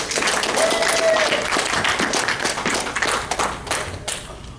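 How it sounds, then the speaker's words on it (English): An open mic audience at a furry convention applauds a performer, a dense wash of clapping with some voices and whistles mixed in, loud and steady before tapering slightly near the end. "Give me a huge round of applause."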